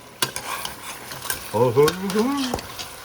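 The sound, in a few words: stirring meat in a pot with a spoon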